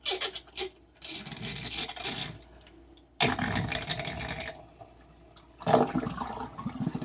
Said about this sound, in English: And then squeeze as much water out as I can.